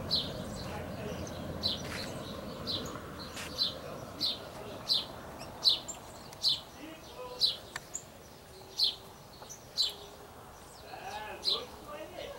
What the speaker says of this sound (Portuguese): Olha o passarinho comendo no comedouro.